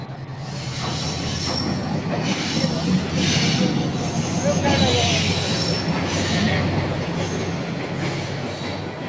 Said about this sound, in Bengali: ট্রেন যাচ্ছে, ট্রেন।